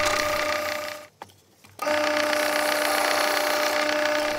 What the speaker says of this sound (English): I'm happy to drill and tap the remaining blocks